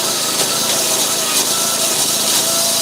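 Chainsaw cutting firewood logs, a loud, continuous buzzing engine drone with rough cutting texture filling the whole stretch, no pauses.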